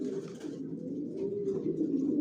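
A red checker racing pigeon sits on its eggs in a loft and coos, a low, continuous throaty burble that is close and steady, with no one speaking.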